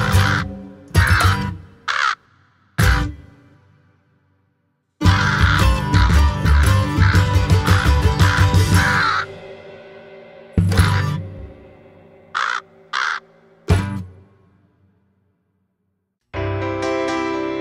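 A crow caws repeatedly within a comedic Christmas song, in loud close bursts separated by pauses, alongside the music.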